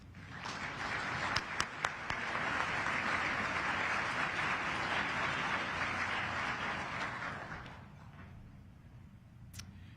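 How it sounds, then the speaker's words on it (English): A crowd at the 2023 State of the City address in Lincoln gives a long, steady round of applause with a few sharp claps at the start, swelling and then tapering off into quiet. "Let's give this group another huge round of applause."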